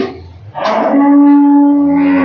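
A first-calf Friesian dairy cow giving about 35 litres of milk at a dairy farm lets out one loud, close, drawn-out moo that holds steady for over a second, with no talk.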